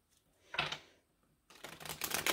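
Tarot cards being shuffled by hand in two bursts of riffling and flicking, a short one then a longer run after a pause, close and fairly quiet.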